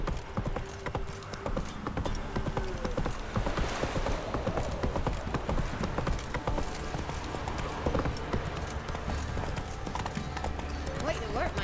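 Horse hooves trot in a video game, a continuous quick clip-clop with a whinny, while someone talks over the game sound.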